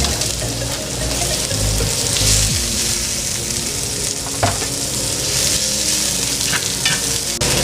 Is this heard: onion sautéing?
yes